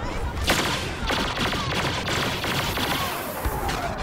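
Star Wars Battlefront blaster gunfire, a dense rapid volley of loud overlapping shots throughout, with sharper bursts standing out near the start and middle.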